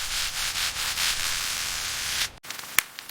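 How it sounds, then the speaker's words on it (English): Close, soft rhythmic rubbing strokes of a wet polishing pad on cured epoxy resin, continuing steadily, then stopping abruptly with a few faint clicks after. "A milky slurry forms as the wet pad polishes."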